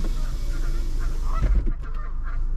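Geese honking near a roadside or path, a burst of loud honks mid-clip over steady low rumbling background noise.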